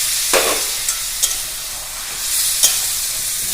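Mutton kosha being stirred in a pan with a little water, a loud continuous sizzle broken by a few sharp scrapes of the spoon at irregular intervals.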